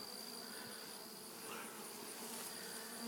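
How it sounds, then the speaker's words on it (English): Honeybees buzz steadily around an open hive as a queen flight is awaited, a dense, continuous outdoor hum close by with no talk. "I'm going to go ahead and shake the bees off of here"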